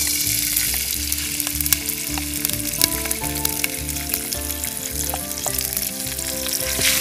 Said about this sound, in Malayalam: ഇനി റൈസ് ഒന്ന് വറുത്തെടുക്കും.